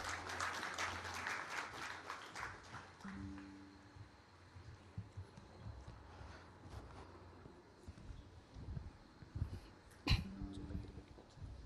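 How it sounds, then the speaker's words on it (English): A welcome for the Deputy CEO of the AP Maritime Board at an aqua processing investment event: a round of applause, fading from brisk clapping into sparse claps, coughs and throat clearing, with a sharp clap near the end. "Let's all welcome him with a big round of applause"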